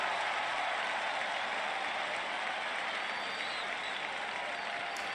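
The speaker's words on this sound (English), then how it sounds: "you can hear the home team cheering for their Chicago Grizzlies" A home stadium crowd in the football game Draft Day Sports: Pro Football 2021 roars for the Chicago Grizzlies after a touchdown, a steady wash of applause and cheering at even volume throughout.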